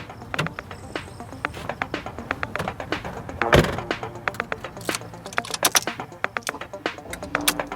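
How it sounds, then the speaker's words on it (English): Foley of footsteps and someone getting into a car: a run of sharp taps and steps, with a heavier thunk like a door shutting partway through, then more scattered clicks and taps, all fairly quiet. "One has got some footsteps and someone getting into a car"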